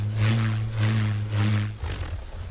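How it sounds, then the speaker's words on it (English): A wooden bullroarer is swung in the open desert, giving a deep, pulsing whirr that swells and fades in regular waves about every half second, loud and close, then drops away. "a wooden device called a bull roar, used in ancient rituals to send signals over long distances"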